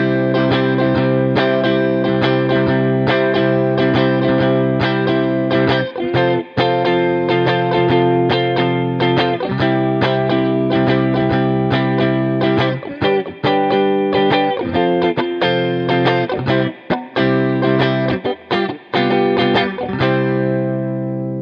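A 12-bar blues progression in C played on an electric instrument with effects, a continuous loud run of rhythmic strummed chords carrying through the whole passage without talk.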